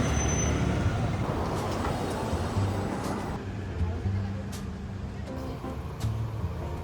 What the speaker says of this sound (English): You can tell it's rush hour now. Look at the traffic jam.